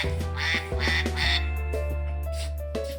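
A children's toy button plays a recorded duck quacking, several nasal quacks in quick succession followed by a sustained electronic tone, close and clear with no voices over it.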